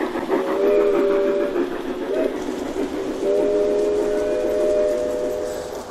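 Model trains run on several side-by-side tracks in a home hallway, with a steady rolling rumble and two long sustained whistle blasts, loud and close, with a brief pause between them.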